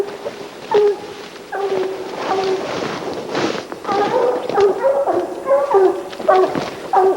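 Hunting dogs at a treed bear keep up an excited chorus of barks, yips and whimpers, close and nearly continuous, with no clear talking.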